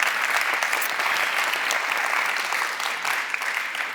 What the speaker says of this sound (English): Could you please give him a round of applause for some amazing photography?